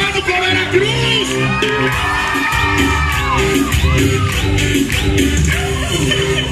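A crowd at a show in Pánuco, Veracruz shouts, whoops and cheers loudly and continuously over music, with piercing rising yells standing out from the din.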